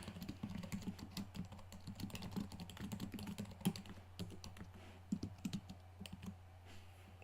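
Rapid keystrokes tap out a comment on a computer keyboard in a steady, uneven patter of soft clicks, close and quiet over a low background hum, with no talking.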